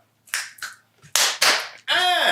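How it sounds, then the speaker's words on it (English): Sharp finger snaps and claps in a quiet room, several crisp isolated cracks in a row, followed by a short sung or voiced tone. "2 snaps and the finger clap"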